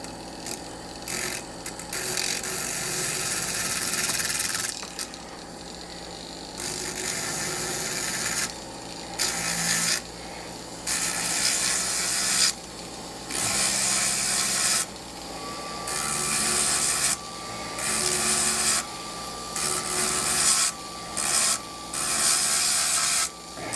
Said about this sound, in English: try to take all those tool marks out with this sanding barrel